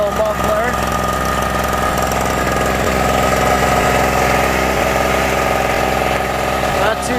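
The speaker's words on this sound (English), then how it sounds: "That's really not too bad for a two-stroke, if you ask me." Harbor Freight 700 watt two-stroke generator idling steadily with a continuous buzzing drone and faint mechanical vibration, heard fairly close throughout.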